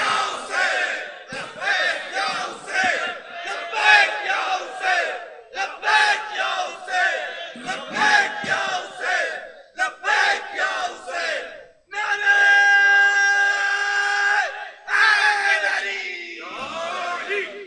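A large crowd at a religious gathering shouts a slogan in unison in repeated loud bursts, with brief gaps between them and a sustained roar near the end.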